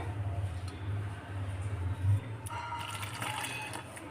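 Warm water is poured into flour in a bowl for paratha dough, a soft, steady trickle close by that turns into brighter splashing and sloshing partway through, with no talking.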